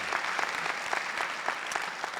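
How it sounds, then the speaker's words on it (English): Audience applause at a spring commencement ceremony, steady brisk clapping from a large crowd filling the hall without any talk over it. "Let's give a big enough clap that she can hear it all the way back at campus."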